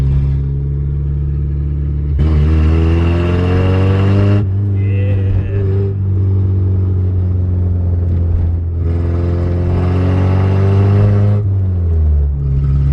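Old junkyard Nissan car driving at about 30 mph, its engine rumbling loud and steady close by, with revs rising through two stretches and dropping between them as gears change.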